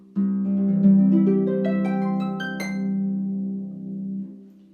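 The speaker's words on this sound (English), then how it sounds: "And arpeggios are beautiful in the harp too." Harp arpeggios ripple upward note by note over a sustained low resonance, bright and close, fading out after about four seconds with no talking.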